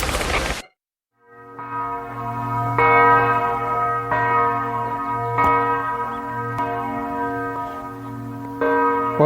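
A bell rings out at the Dachau concentration camp after a brief burst of noise and a moment of silence, tolling in slow, resonant strikes roughly every second or two, each one's hum lingering under the next.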